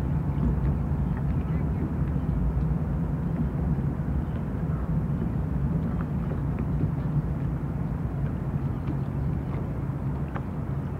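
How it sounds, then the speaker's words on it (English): A boat's trolling motor runs steadily during bass fishing on the Potomac River, a continuous low hum and water wash filling the whole stretch at close range. "Put on the trolling motor and get ready."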